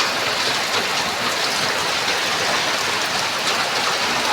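Heavy rain pouring during an outdoor storm, a dense, continuous wash of falling water that stays loud and steady from start to finish with no voices.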